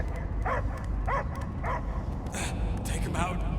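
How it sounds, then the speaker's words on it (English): A dog barking in the Guardians of the Galaxy video game, several short barks and yips in a quick series over a low rumbling game soundscape. "I hear only barking."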